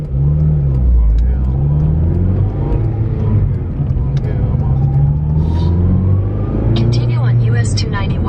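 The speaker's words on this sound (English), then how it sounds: "let's go ahead and take this car to work" A car drives along a US highway, its engine rumbling steadily and rising as it accelerates. The engine stays close and loud throughout while a voice talks over it.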